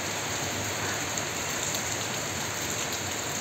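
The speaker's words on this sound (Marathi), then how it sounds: "बाहेर बघा कसं जोरात पाऊस चालू झाला आहे" Heavy rain pouring outside, a dense and even hiss of drops on surfaces that holds steady throughout, with no voices.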